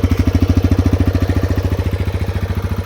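A TVS Raider 125 motorcycle idles up close with a steady, rapid single-cylinder thump, loud and even throughout with no other sounds.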